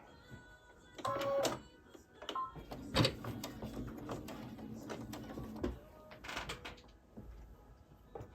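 A sewing machine stitches elastic down onto a crib sheet, its motor whirring in intermittent runs with mechanical clicks and clatter between passes, close and fairly quiet, with no talking.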